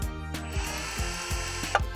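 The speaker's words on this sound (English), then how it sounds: "I'll switch to a smaller drill bit to act as a pilot" A power drill bores a pilot hole with a small bit while fitting fender LED lights, a close steady whir with a few short bursts and pauses.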